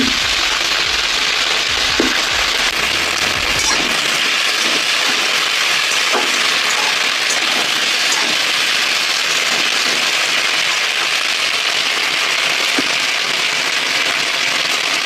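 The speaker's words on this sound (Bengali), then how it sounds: "ভেন্ডি আলু পেঁয়াজ লঙ্কা পাঁচ ফোড়ন চাপ দিয়ে একটু ভেজে নেব" Okra, potato, onion and chili frying with five-spice in a hot pan give a steady, close sizzle dotted with scattered crackles and pops, heard alone with no talking.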